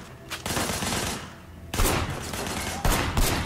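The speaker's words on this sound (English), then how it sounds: "Blind fire a couple times." Blind-fired pistol and automatic shots in Sleeping Dogs come in loud separate bursts, with quieter ringing gaps between the volleys and no talking.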